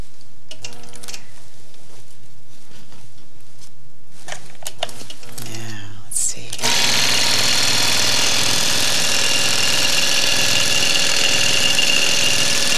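A sewing machine stitches a quilt in a steady, fast run after a few brief starts and stops. It stays close and loud throughout.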